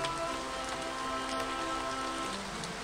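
Constant rain in a video game falls as a dense, steady hiss of drops on surfaces, even and unbroken throughout, with no voices.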